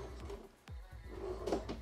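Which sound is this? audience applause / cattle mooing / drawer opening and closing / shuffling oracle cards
drawer opening and closing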